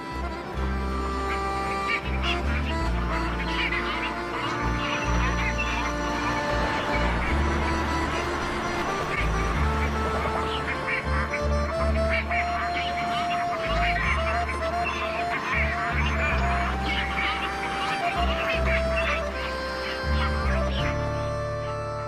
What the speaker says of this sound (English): masses of pygmy cormorants fly upriver from their feeding grounds to the safety of the city center, where they can rest in the tall trees